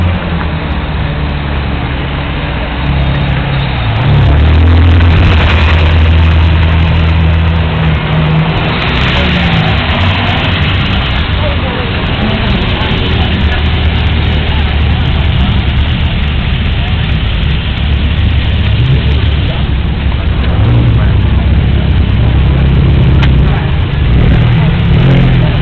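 A Bugatti Veyron engine idles loudly with a steady deep rumble and slight swells in revs, close and continuous throughout.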